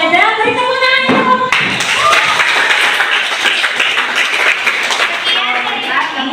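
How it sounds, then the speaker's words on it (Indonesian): A classroom group breaks into clapping after a voice trails off, with many hands clapping together in a steady, fairly loud burst that continues to the end. "Kalau ada, beri tepuk tangan."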